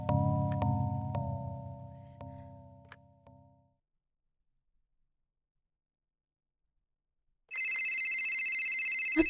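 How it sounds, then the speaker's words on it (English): A phone rings in the video game Loop Error, a steady electronic ring starting abruptly after silence and holding loud, following a fading musical tone earlier. "My phone. Who's calling at this hour of the night?"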